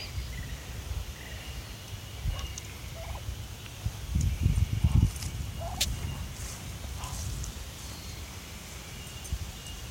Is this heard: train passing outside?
no